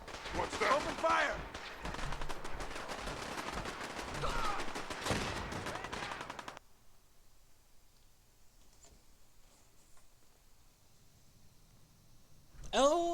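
Gunfire erupts in Fallout 4: several seconds of dense, loud shooting and clatter mixed with a voice, then a sudden drop to a quiet background and a brief sharp burst at the end.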